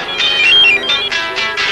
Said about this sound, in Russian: У кого звонит пейджер? Немедленно отключите.